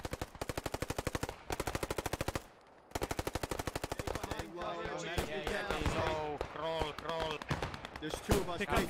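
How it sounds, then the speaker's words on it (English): Rapid machine gun bursts in a multiplayer war video game, long rattling strings of shots with a short gap, then a voice talks over continued game sounds. "he's putting down some good MG fire here"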